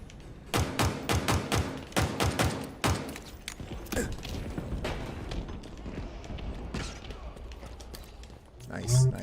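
Pistol shots in a Halo Infinite multiplayer match crack out as a rapid string of sharp reports early on, then scattered thuds and mechanical game noises, with a voice talking over the action.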